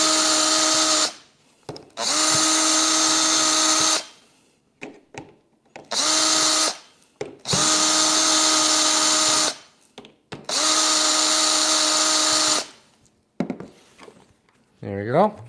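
A power drill spins out four screws holding the panel of a countertop mini fridge, running in repeated whirring bursts of about one to two seconds each with short pauses between them, close and loud.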